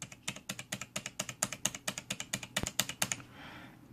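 Rapid, crisp clacking of a Logitech G910 Orion Spark mechanical keyboard, close up, in a steady typing rhythm with one heavier thud near the end before it stops.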